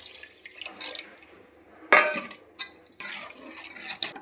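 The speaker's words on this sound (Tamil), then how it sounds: "புளி கரைசலை போட்டுட்டேன்" Tamarind extract is poured into a simmering Tamil dried-fish and turkey-berry curry, making close, uneven bursts of splashing and trickling liquid with short pauses between pours.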